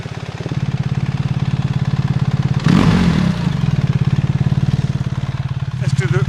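BMW R1300 GS motorcycle fitted with an aftermarket exhaust, idling with a steady throb and then briefly revved in one sharp burst before settling back to idle, recorded close up.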